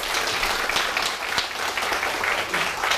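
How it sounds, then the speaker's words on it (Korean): A lecture audience at Korea University applauds to welcome a professor emeritus to the podium, a dense, continuous clapping that stays level from start to finish. "큰 박수로 강연을 맞아주시기 바랍니다."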